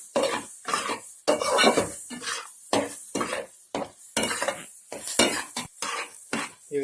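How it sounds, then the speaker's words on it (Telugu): Basmati rice stirred in a pan with eggs for fried rice: rhythmic bursts of scraping and rustling from a spatula against the pan, each separated by short pauses, close and fairly loud with a light sizzle underneath. "ఇందులో ముందుగా మనం సిద్ధం చేసుకున్న బాస్మతి బియ్యం వేసుకొని కలుపుకోవాలి."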